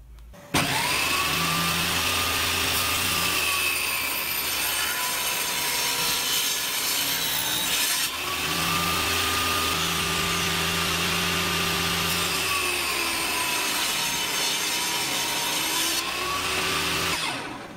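A table saw cuts a wooden workpiece twice in succession, a loud, steady whine of the blade with a rising and falling tone as the wood feeds through, a short break between the two passes, no talking.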